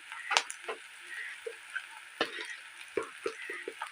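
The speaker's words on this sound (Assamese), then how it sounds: "মই মছলা ভাজি লৈছোঁ" Powdered turmeric, dried chili, coriander and cumin fry in a pan for fish curry, giving a soft sizzle under a series of sharp spoon taps and scrapes as the spices are stirred.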